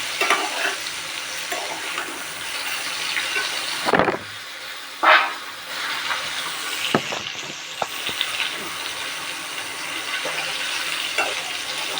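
Meat sizzles and fries in a home kitchen pan with cauliflower and potatoes, a steady close hiss broken by a few louder stirring scrapes and clatters, with no talking.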